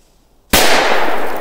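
A firecracker explodes in the snow with a single sharp, loud bang that cuts through near silence, followed by a broad, noisy roar that slowly fades.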